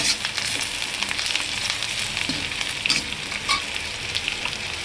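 Potatoes and onions frying in a pan at home, a steady close sizzle with occasional scraping stir sounds, no talk.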